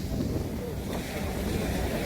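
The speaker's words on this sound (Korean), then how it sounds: "파도 소리가 너무 아름답습니다" Rough winter sea waves at Gyeokpo beach by Chaeseokgang in Buan surge in a constant, dense roar, mixed with heavy wind buffeting the microphone in harsh weather.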